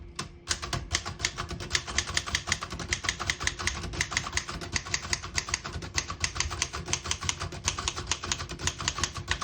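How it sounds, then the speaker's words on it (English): A 1937 Remington Junior portable typewriter is typed on briskly, giving rapid, crisp key strikes in a dense, uneven clatter. The sound is close and alone, with no voices. "all the keys type nice and none of them skip or stick"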